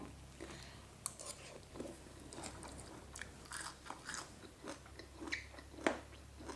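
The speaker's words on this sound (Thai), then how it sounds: "มากินตำมะม่วงใส่ผักกระโดดน้ำอายเด้จ้ะเด้อ แซ่บ" Close, quiet crunching and chewing of spicy green mango salad with wild kradon leaves, with irregular bites and wet mouth clicks repeating steadily throughout.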